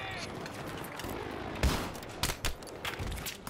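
Battlefield 3 gunfire crackles from across the road on the Gulf of Oman map, sharp shots and short bursts at mid distance, irregular and loud over a busy battle background.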